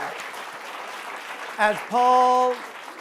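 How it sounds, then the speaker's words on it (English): A diffuse wash of audience clapping at an evening talk fades along, then a short electronic tone sounds twice over the tail of the applause. "let's give a big round of applause for Chip Conley."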